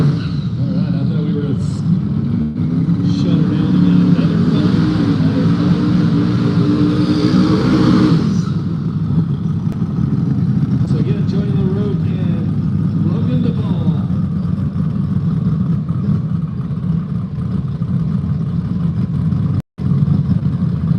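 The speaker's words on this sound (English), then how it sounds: "I hear the big tire car rolling up." A big-tire no-prep drag race car rolls up at a woods racing event, its engine rumbling and revving nearby for the first several seconds, then settling into a steady idle under ongoing crowd chatter and talk.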